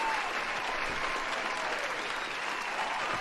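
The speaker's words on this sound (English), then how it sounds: "Round of applause for Jen D's." Steady crowd applause fills a few seconds, a dense, even wash of many hands clapping at moderate distance with no clear voices above it.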